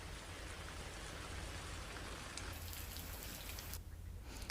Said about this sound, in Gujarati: પશ્ચિમ કચ્છના ગ્રામ્ય વિસ્તારોમાં વરસાદ છે